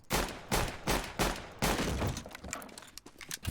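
Rapid gunfire from CS:GO, loud and close, with a fast fusillade of overlapping shots in several bursts followed by scattered single cracks.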